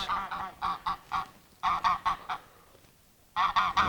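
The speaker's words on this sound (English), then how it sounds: "I inherited these 2 geese" Two geese on a farm honk loudly and close by in three bursts of rapid calls, separated by brief pauses.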